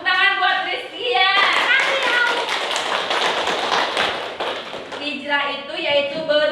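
Children in a classroom clapping for a classmate named Rizky, a dense burst of rapid hand claps lasting several seconds, with an adult voice speaking before and after.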